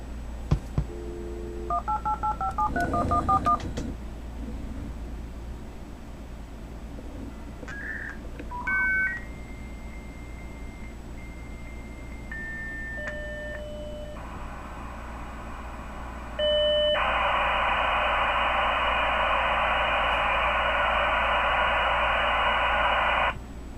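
A dial-up modem dials AOL over a magicJack line. A quick run of touch-tone beeps is followed by shifting handshake tones, then a loud, steady hiss of connection noise that fills the final stretch.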